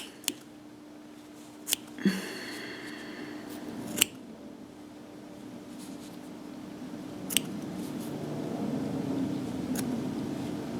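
Scissors snip through bundled crochet yarn for tassels on a neck warmer, giving a few sharp, close clicks spread across a quiet room with faint background hum.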